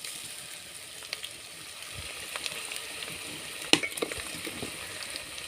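Meat sizzling in a pan with ginger-garlic paste as it is slowly cooked down for Eid biryani, a steady soft frying hiss with small crackles and one sharp clatter near the end, no voices.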